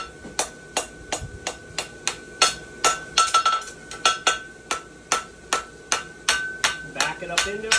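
Steady hammer blows ring out on a steel horseshoe being forged at the anvil, about twenty sharp metallic strikes in an even rhythm, close and loud with no talking.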